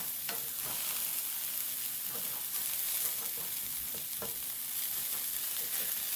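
Sweet potatoes cooking in a pan for tacos, a steady close sizzle of frying with scraping and stirring clicks from a utensil, continuous throughout.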